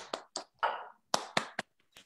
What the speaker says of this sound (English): Let's give Fran a round of applause.